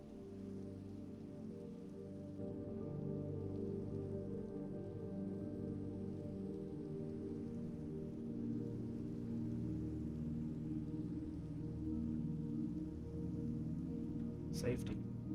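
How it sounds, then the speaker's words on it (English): Steady video game rain falls as a continuous hiss throughout, with a brief sharp crackle near the end that could be thunder. "This rain is making it very easy to see."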